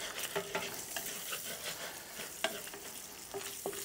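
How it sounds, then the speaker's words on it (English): Sausage fries in a skillet on a Blackstone griddle: a steady, bright sizzle with a few sharper pops and stirring scrapes, close-up and with no voices. "Got some nice browning on the sausage."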